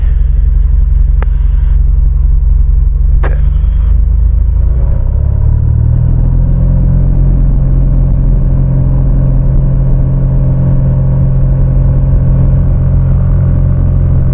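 A Piper Cherokee light aircraft engine drones loud and steady in flight, its low rumble shifting pitch partway through as power changes, with brief radio clicks early on.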